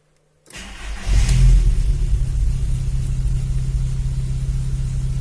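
A cold 2000 VW Golf 4 with a 1.6 AKL engine cranks briefly, then catches and settles into a loud, steady raised-rpm idle rumble close to the microphone.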